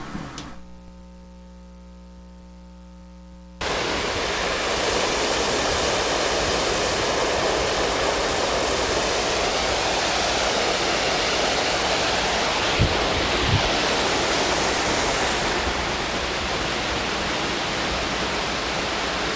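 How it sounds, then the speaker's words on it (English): The big waterfall at the Cowsheds in Fillmore Glen State Park, a broad, steady rushing roar that starts abruptly after a quiet opening and holds loud and continuous, like heavy falling water close by. "This is an area known as the Cowsheds in Fillmore Glen State Park. And it's the big waterfall at the end of Fillmore Glen"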